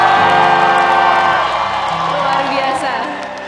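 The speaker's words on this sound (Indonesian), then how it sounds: "tepuk tangan dan teriakan yang meriah dari para pendukung" An audience at the opening show of the Miss Indonesia final cheers and whoops loudly, the crowd roar close and dense before easing slightly toward the end, with voices shouting in the mix.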